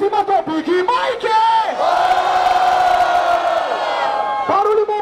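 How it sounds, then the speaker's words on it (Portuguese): A live rap-battle audience at a Brazilian MC duel roars, cheers and shouts in sustained waves of loud crowd noise, building into a long collective yell after a few scattered calls. "Barulho e mão pra cima pra quem gostou das rimas do Big Mike!"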